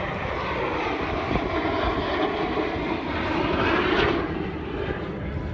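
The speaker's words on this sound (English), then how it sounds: "There's a massive plane behind me." A massive airplane passes overhead near a Lake Michigan shoreline in Chicago, its engine roar a steady broad drone that swells slightly and then eases, loud and alone.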